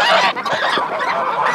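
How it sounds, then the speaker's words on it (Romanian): Three-month-old Tula-breed gosling with a curved beak honking loudly and continuously at close range, harsh nasal calls repeating over about a second and a half. "boboc de 3 luni de rasă tulă cu ciocul curbat"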